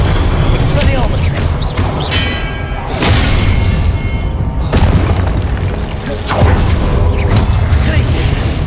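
Spell-casting in the video game Hogwarts Legacy, an Expelliarmus disarming charm amid dense combat, with loud booming bursts and crashing impacts that run continuously and stay close, one after another.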